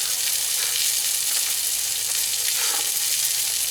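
Striped bass fillets fry skin-down in a hot pan, giving a loud, continuous, even sizzle with no talking.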